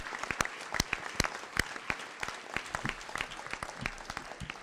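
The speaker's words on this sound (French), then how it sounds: "Je vous demande quelques applaudissements en sa mémoire." Sparse, quiet applause from a small audience at a mayor's New Year ceremony, with distinct individual claps spaced irregularly and a soft wash of clapping underneath.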